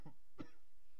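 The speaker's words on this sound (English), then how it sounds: "a little bit of a cough." A man coughs twice in a short, close burst, the second cough sharper, with quiet room tone between.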